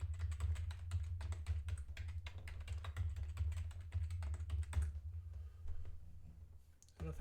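Fingers type on a computer keyboard in quick, close clattering clicks over a low hum, then pause near the end before a final keystroke.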